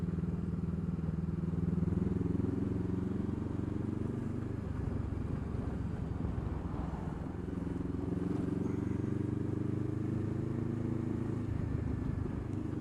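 A motorcycle rides out near Scarborough in Yorkshire, its engine a steady, close, low rumbling drone with gentle shifts in pitch and continuous road noise throughout.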